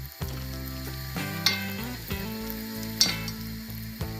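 Bori lentil dumplings fry in a little oil with cumin and potato for an aubergine dish, giving a steady close sizzle with a few sharper pops and no voices.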